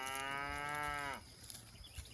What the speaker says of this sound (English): You hear that mama calling for her calf right there.